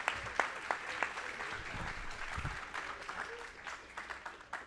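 An audience at a book fair applauds a musician and author with steady, moderately distant clapping, while a voice speaks over it.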